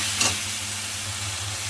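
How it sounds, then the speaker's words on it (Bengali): Masala spices for dal makhani fry in a pan with a continuous close sizzle, broken once early by a quick scrape of the stirring spoon. "আর ততক্ষণ আমি মশলাটাকে ভালো করে কষিয়ে নেব।"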